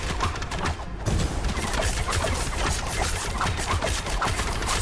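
Rogue marksman firing a rapid stream of arrows in the Last Epoch video game: dense, continuous bursts of loud, overlapping impacts and crackling hits with no break.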